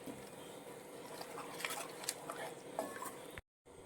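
A spoon stirs okra mappas, a Kerala-style okra curry, in a pan right after the thick first coconut milk goes in. Soft wet squelches and a few light clicks sit over a steady background hiss, then cut off briefly near the end.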